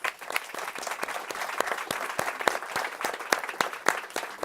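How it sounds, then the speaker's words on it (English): A summit audience applauds a four-person panel at the end of a session, a steady, dense round of clapping heard at moderate distance with no talk over it. "Let's give them a round of applause."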